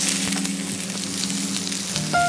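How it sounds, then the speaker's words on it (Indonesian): Onions sautéing in a pan for beef soup, a steady close sizzle with a faint low hum, ending in a brief clink near the end. "Tumislah sampai garing."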